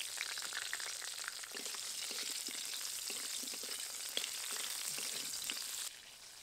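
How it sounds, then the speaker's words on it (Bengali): Raw mango and slit green chillies frying in oil with black cumin seeds, a steady loud bubbling sizzle close up, with a few faint stirring taps, ending in a sudden quieter drop near the end. "কাঁচা আম কাঁচা লঙ্কা দিয়ে তেলের মধ্যে নাড়াচাড়া করে নিয়েছি।"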